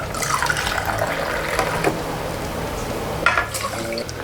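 Water pours steadily into a pot of jasmine rice for a salmon meal prep, a continuous splashing fill close by with a brief louder gush near the end, no talking.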